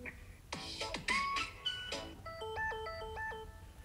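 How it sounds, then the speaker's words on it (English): A Samsung phone ringtone preview plays alone, opening with a few rising electronic chimes and then settling into a repeating, steady-tempo tonal melody of bright synthetic notes. "go through this list and look for the ringtone that you would like to use"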